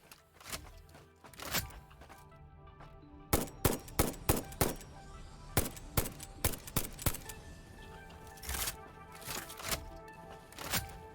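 Rifle gunshots in the video game Satisfactory: a rapid run of sharp, loud cracks, some in quick clusters and others spaced apart, over a low steady background hum.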